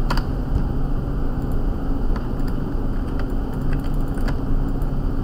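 Rapid, steady typing on a computer keyboard during a Mobile Legends session played on a PC emulator, with close clicking keystrokes over a constant low hum.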